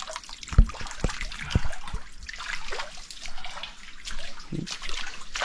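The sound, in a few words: filling water container from a stream at waterfall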